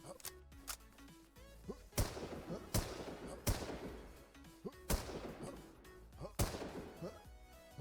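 Gunfire in the zombie shooter game Last Z, a run of loud, sharp shots at irregular intervals with crashing impacts between them over a busy game soundtrack.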